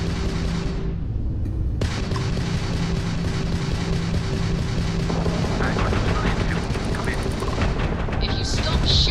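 Ship weapons fire in a space battle in the video game Starfield, a dense, continuous barrage of loud blasts and booming shots rolling over a heavy engine rumble with no break.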